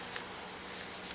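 A pencil scratches across the paper of a small handmade beginner's journal in a few short, soft strokes, close up and quiet with no talking.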